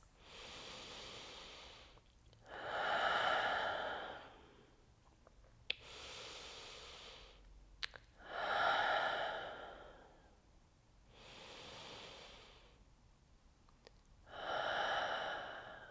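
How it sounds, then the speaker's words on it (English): Three slow, deep breaths during a gentle pregnancy yoga practice, each long airy inhale and exhale rising and fading with quiet pauses between, close and soft with no talking. "Bow the head down and take 3 deep breaths into your heart space."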